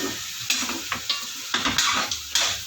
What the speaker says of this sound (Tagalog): nilagay ko na yung karne nahalo ko muna habang ginigisa